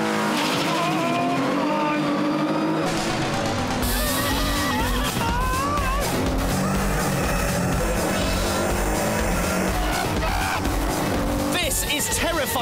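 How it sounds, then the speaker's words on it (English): A 265-horsepower car screaming around a race track, its engine loud and close and rising in pitch through the gears, with tires squealing and someone talking over it. "that's because it's got an incredibly powerful engine, 265 horsepower."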